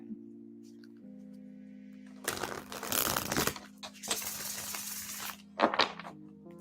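Tarot cards are shuffled in bursts of riffling and rustling, first a long rough stretch and then a shorter one, ending in a brief snap, over a low steady hum of background music.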